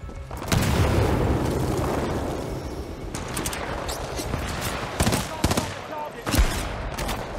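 A loud, close grenade blast in the video game Titanfall 2 opens into a long rumbling decay, followed by bursts of rapid gunfire and further sharp impacts.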